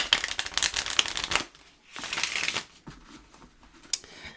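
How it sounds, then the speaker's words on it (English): A tarot card deck is shuffled in two bursts of crisp riffling and sliding cards, followed by softer taps and handling sounds close by, without speech. "let's give this little deck a shuffle and get some clarifiers out."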